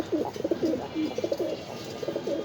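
A Pakistani Greeneck pigeon coos close by in a quick series of throaty rolling notes, repeated in short bursts over a quiet background.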